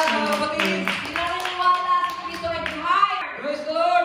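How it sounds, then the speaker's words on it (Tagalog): A standing church congregation at an El Shaddai worship gathering claps in quick, uneven bursts, close by and mixed with voices speaking and calling out throughout. "Habang tumatayo, pumapalakpak."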